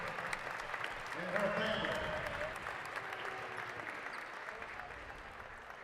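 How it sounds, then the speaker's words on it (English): Sustained crowd applause fills a college gym before a men's basketball game against Young Harris, rising after the first second and holding steady, with an announcer's voice talking over it. "Big round of applause for Savannah Walker"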